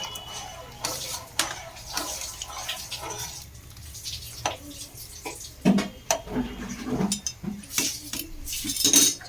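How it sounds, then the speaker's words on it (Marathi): A spoon stirs veg pulao in a pot, with repeated scraping and metal clinks against the pot's sides, close and moderately quiet, and a few louder knocks toward the end. "पुन्हा एकदा चमचा फिरून घ्यायचा आहे"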